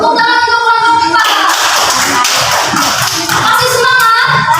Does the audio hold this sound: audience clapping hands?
yes